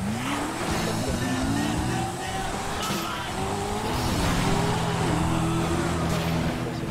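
A sports car in GTA V Online revs and drives with a rising engine whine and intermittent tire squeal, loud and continuous, game audio carrying under the engine throughout.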